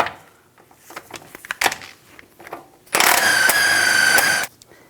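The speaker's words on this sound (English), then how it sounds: "Using a 21mm socket, take this nut off." A ratchet with a 21mm socket turning off the tie rod nut on a 2015-2020 Cadillac Escalade, with scattered metal clicks and clanks, then a loud, steady mechanical buzz lasting more than a second before it cuts off.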